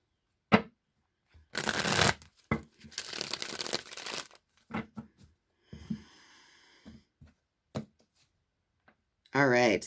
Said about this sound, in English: I'm going to go ahead and shuffle the Rider-Waite deck a few times